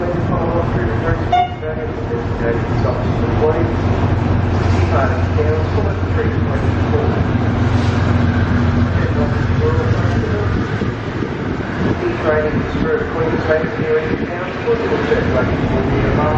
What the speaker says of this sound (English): There comes a mineral train.